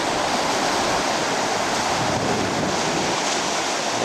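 Ocean surf washes continuously onto a beach at Fort Macon on an overcast day, a steady broadband roar of breaking waves mixed with wind buffeting the microphone, with no speech.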